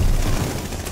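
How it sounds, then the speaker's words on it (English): Gunfire in the video game Call of Duty: Vanguard, a loud, dense burst of rapid shots and booms that fills the whole short moment. "And there's already gunfire."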